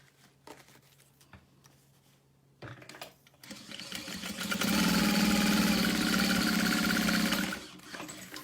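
A few faint clicks and handling sounds, then a sewing machine whirs up and stitches steadily for about three seconds before slowing to a stop.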